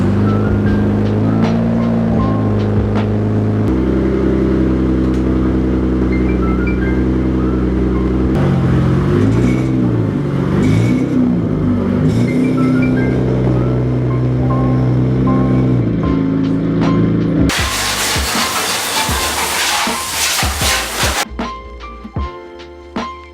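A Nissan Skyline R32 engine idles and revs, its pitch rising and falling as it pulls away, followed by a burst of loud rushing noise before fading.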